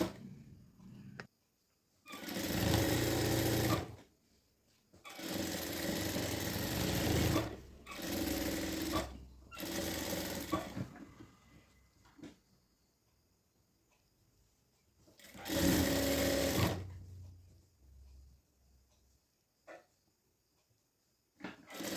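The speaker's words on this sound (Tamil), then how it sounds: "இப்போ திருப்பி தேல் போடுவோம் இல்லையா" An electric sewing machine stitches around a blouse neckline in several bursts of rapid whirring, each lasting a few seconds with quiet pauses in between, heard alone and close up.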